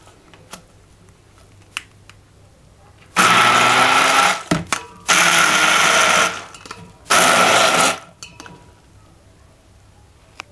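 Electric grinder blending garlic chutney ingredients for Gujarati bhel, three loud whirring bursts of about a second each, separated by short pauses with faint clicks and handling noise.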